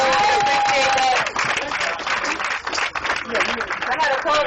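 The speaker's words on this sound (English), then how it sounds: "please give yourselves a round of applause for coming out in the rain" An outdoor crowd at a rainy rally for Trayvon applauds and cheers, a dense wash of clapping and voices throughout, with someone speaking over it at first.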